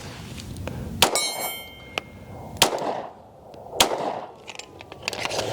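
Pistol shots from a Palmetto State Armory Dagger full-size striking a steel target: four sharp, loud cracks spaced about a second apart, each followed by a short ringing clang, with quieter ambient noise between them.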